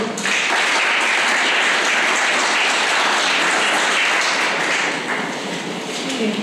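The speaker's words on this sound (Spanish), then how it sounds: "Fuerte aplauso, por favor." Audience applause greeting a speaker at the start of an informational talk on ADHD, a dense, steady wash of many hands clapping, loud and continuous for several seconds, easing slightly toward the end.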